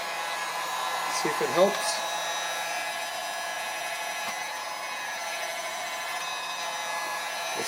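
A heat gun blows a steady, close airy roar onto motorcycle windscreen trim on a Yamaha RZ350, with a brief voice speaking early on over the continuous whoosh.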